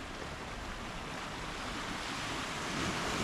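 Sea waves break and wash along the rocky coast at Munxar, with boats moving offshore, making a steady, dense rushing roar that swells slightly toward the end, with some wind over the water and no voices.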